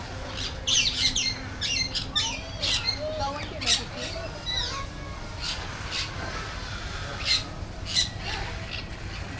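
Birds at KL Bird Park let out repeated sharp squawks and chirps, some loud and close, scattered over a busy background while people talk nearby.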